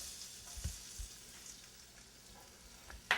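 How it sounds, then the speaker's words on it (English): Minced garlic sizzling quietly in hot olive oil, a soft steady crackle with a few small pops and a clatter at the end. "And we can hear it start to sizzle up a little bit."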